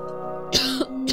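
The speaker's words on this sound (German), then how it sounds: "jetzt musste ich mal eben husten" A man gives two short, rough coughs close to the microphone during a German Let's Play of Kingdoms of Amalur: Reckoning, with a steady tonal game-music hum underneath.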